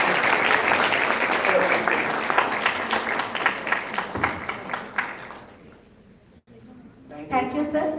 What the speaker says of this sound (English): Please give a huge round of applause for Professor G.D. Yadav and Sanjay Bhargav.